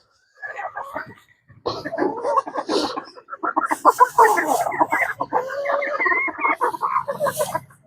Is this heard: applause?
no